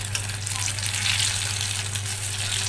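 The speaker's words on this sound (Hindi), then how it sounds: "और हम इसे दूसरी तरफ से 1 मिनट तक के लिए अच्छी तरह से फ्राई होने देंगे" Moong dal pakoras fry in hot oil after being flipped, giving a loud, steady, close sizzle that carries on without a break and without any voice over it.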